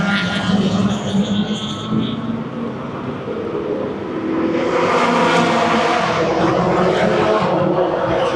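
Cars run on the Sepang race track during a track day, engines droning and revving nearby, swelling louder as the cars pass, with light talk over the engines.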